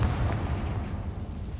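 Confringo fire spell from Hogwarts Legacy detonating inside an old closed mine, a deep rumbling boom that hits at once and decays with a low, rolling tail.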